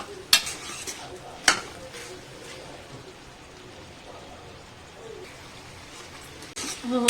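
Duck meat frying in a pan, Assamese style with ash gourd, with a steady faint sizzle under occasional sharp clinks and scrapes of a utensil stirring against the pan, and louder stirring at the end.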